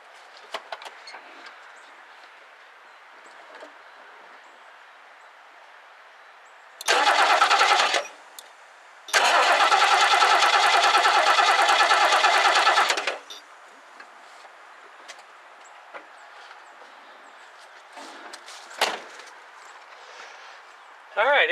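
A 1969 Lincoln Mark III's starter cranks the engine in two bursts, a short one and then a longer one of about four seconds, without it firing. Someone speaks quietly in the pauses around the cranking.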